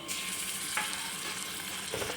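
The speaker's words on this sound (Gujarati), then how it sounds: "ઘી ગરમ થાય એટલે એક ચમચી જેટલું આપણે જીરું મેળશું" A spoonful of cumin seeds sizzling in hot ghee in a pan, a steady bright frying crackle with a brief stir or clink partway through, close and with no talk.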